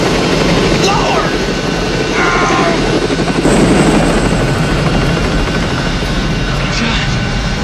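An aircraft engine drones loud and steady throughout as a plane flies low, with voices talking over the sustained roar.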